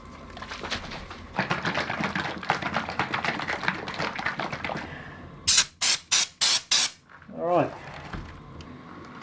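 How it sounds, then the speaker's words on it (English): A spray gun at about 60 psi applies Raptor Liner coating to Jeep XJ parts. A long stretch of rapid rattling hiss is followed by five sharp, loud spray bursts and one last softer burst. "always spray directly at the face of the panel"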